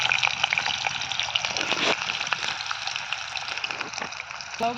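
Potatoes drop into hot oil already tempered with dry red chili and black cumin, setting off a loud, crackling sizzle with sputtering pops that settles into steady frying and a few sharp spits near the end.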